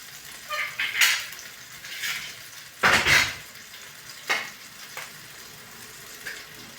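Sliced brinjal frying with onion in a pan gives a soft background sizzle, broken by several short, scraping bursts of stirring.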